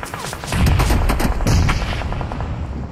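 Dense bursts of gunfire from the battle royale game BGMI crackle loudly in rapid succession, sustained automatic shots dominating the mix with no voices.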